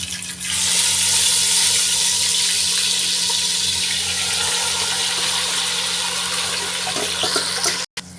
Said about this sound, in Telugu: ఇప్పుడు మనం మ్యారినేట్ చేసిన కీమాను కడాయిలో వేసుకుందాం.